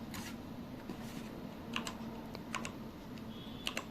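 A computer keyboard clicks softly and close by as a file name is typed, with uneven keystrokes and brief pauses over a faint steady hum.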